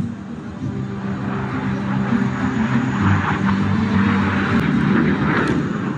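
An HAL LCA Tejas fighter jet flies a display at the Dubai Air Show 2021, its engine a steady, loud roar that swells slightly as it banks, with no talk over it.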